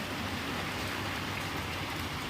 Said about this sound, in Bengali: এই আবার জোর বৃষ্টি হয়ে গেল।